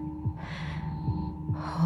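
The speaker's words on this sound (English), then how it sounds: "My heartbeat's slowing down." Slowing heartbeat in the video game Tell Me Why, a soft low thumping pulse repeating at a steady moderate pace under a faint hum and airy breath-like swells, no talking.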